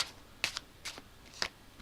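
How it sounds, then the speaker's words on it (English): Quiet, close overhand shuffling of playing cards in a few short brisk bursts separated by brief pauses. "I'll do a cut and then an overhand shuffle."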